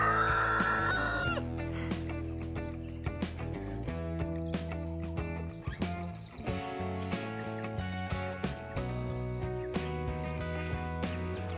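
Backyard homestead chickens cluck and call while waiting for pea trimmings, with a rooster crowing near the start; the sounds are close, overlapping and continuous, with sharp, irregular clucks throughout.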